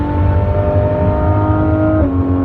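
A Porsche GT3 RS engine pulls hard under acceleration, a loud, steady, close-up drone with rising harmonics and a sudden pitch drop near the end as it shifts gear.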